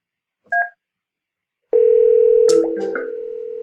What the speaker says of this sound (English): Okay, so I have an incoming call.